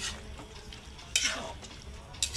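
A sour dish cooked in coconut milk being stirred in a pan, with faint bubbling sizzle and a few sharp scrapes and clinks of the utensil against the pot, fairly quiet overall.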